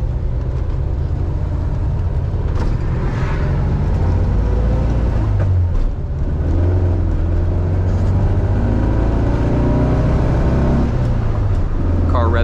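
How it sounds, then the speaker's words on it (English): 1977 Volkswagen Beetle air-cooled engine heard from inside while driving, a loud, steady low drone with rising revs and gear changes, continuous throughout. "Car revs out nicely."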